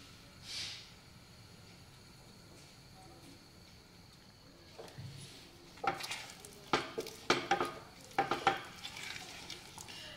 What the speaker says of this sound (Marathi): असंच व्यवस्थित हे मिश्रण एकसारखं हलवतच आपण हे शिजवून घेणार आहे।